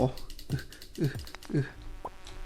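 Swarming flies in the Stardew Valley farming game buzz in repeated short bursts, with a rhythm of gliding tones under an excited player's voice and clicking.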